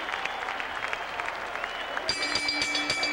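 A boxing arena crowd applauds Azumah Nelson and Jeff Fenech after twelve rounds, a dense, steady wash of clapping and cheering with a few whistles rising in the last second.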